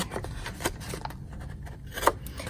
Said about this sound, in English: now let's take the scissors and remove this section right here and this section